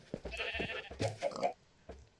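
Sheep bleating in the Minecraft video game, a few short, moderately loud bleats close together, heard alone.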